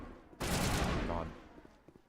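A companion opens fire in the Mass Effect sci-fi shooter game, a sudden loud burst of rapid gunfire lasting under a second before fading into quieter background sounds.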